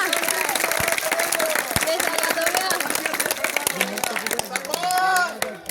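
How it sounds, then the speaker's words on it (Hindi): Audience clapping during a stage performance, a brisk patter of many hands mixed with loud cheering and shouting voices, rising to excited calls near the end. "तालियां"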